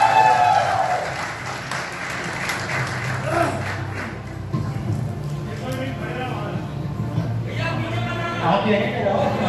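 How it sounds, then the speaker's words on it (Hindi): Audience applause at a Chhattisgarhi film award ceremony, a steady crowd clapping that runs through the whole stretch with a voice talking over it. "भाई ताली जोरदार होना चाहिए भाई"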